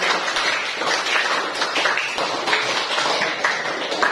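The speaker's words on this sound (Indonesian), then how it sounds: "Sekali lagi kita beri tepuk tangan yang meriah untuk kegiatan kita." University classroom of students clapping together at the end of a lesson, a lively, close burst of many hands with a slightly uneven rhythm lasting several seconds.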